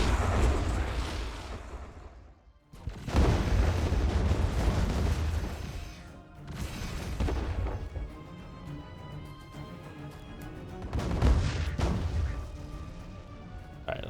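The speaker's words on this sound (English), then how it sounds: "Let's, bombard them." Planetary bombardment in the space strategy game Distant Worlds 2: long, loud rumbling blasts that roll in heavy waves with brief lulls between them, dense and booming with no talking.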